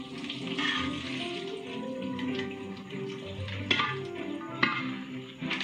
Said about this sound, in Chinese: 冰镇过后，我们就要快快沥水哦